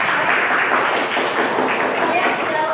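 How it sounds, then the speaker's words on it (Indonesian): Classroom of students applauding together in a lesson, a continuous wash of clapping heard throughout with a voice faintly underneath. "Tepuk tangan dulu"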